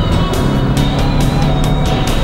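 A GAZ Siber car with automatic transmission hums steadily with road noise, its engine rising slightly in pitch as it picks up speed, with a rhythmic thump from the road surface.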